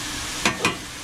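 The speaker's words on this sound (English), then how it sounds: "that I'm searing wonderfully and perfectly on my 17-inch Blackstone" Flap steak searing on a 17-inch Blackstone griddle gives a steady close sizzle, with two brief louder hissing bursts partway through.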